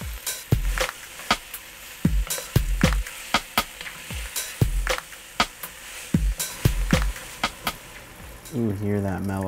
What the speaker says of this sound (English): hear that mellow down. The calmness of the sizzle